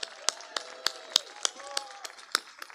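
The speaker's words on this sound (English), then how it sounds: "Let's give a big round of applause" Scattered claps and cheers from an audience at a union labor council memorial event, sharp irregular hand claps over a murmuring crowd, moderately faint and not full sustained applause.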